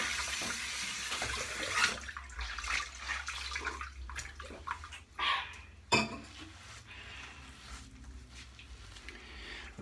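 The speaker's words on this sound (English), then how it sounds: "Let me go ahead and wipe my face off here with some warm water." Warm water splashing at a bathroom sink as a face is rinsed after a shave with a 1938 Gillette Senator razor, with brief splashes and a steady tap flow close by, no voices.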